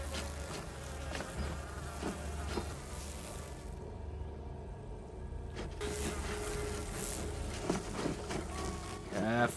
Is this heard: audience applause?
no